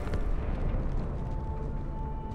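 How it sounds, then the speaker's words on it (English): An explosion in the Halo 2 video game rumbles as a dense, continuous low roar throughout, without a sharp onset, with a faint steady tone running beneath and no speech. "That explosion came from inside the Athens."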